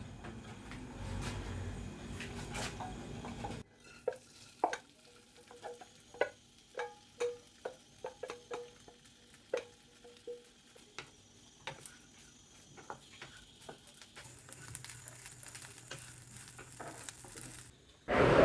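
Pulao is reheated and stirred with ghee in a pan: a soft background sizzle with a run of sharp, irregular spoon clicks and scrapes against the pan, fairly quiet and close.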